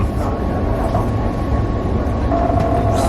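Steady loud rumble inside a moving overnight train carriage, a continuous dense roar with low-end rattle and a faint high tone appearing near the end.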